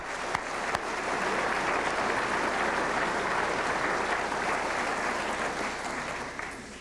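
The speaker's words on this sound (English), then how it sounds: "Lou Mackenzie, come on, a nice round of applause." Banquet audience at a 1992 GM motorsports dinner giving a nice round of applause, dense steady clapping from a large room that holds evenly then tapers off slightly at the end.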